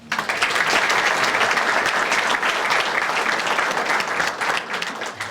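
An audience at the University of Scranton's South Side Athletics Campus announcement claps loudly and steadily for the city's mayor, with dense applause throughout.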